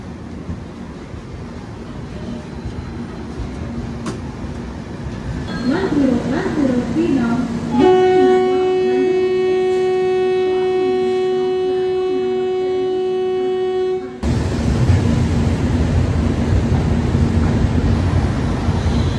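The Mandovi Express leaves CSMT platform 17 for Madgaon on the Konkan Railway, with steady loud carriage rumble and a long, wavering train horn sounding for several seconds, and voices audible in the background.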